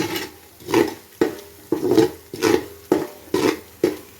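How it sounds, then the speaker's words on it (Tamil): Biryani masala powder being sautéed in a pan, a spoon scraping and stirring against the metal in a steady rhythm of about eight close, distinct strokes, with no talking. "இந்த பொடியை போட்டு ஒரு வதக்கிக்கணும்."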